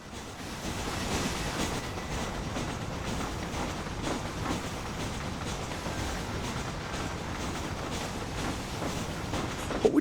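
A train rolling on rails in the video game Red Dead Redemption, a steady continuous rumble with faint rhythmic clatter holding evenly throughout, close and moderately loud with no talking.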